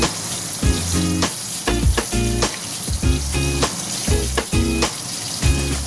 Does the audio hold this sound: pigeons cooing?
no